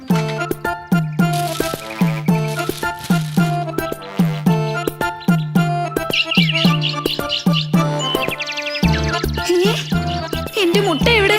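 A cartoon sparrow chirping in quick, high, bouncy repeated calls over a plucky, rhythmic children's music track.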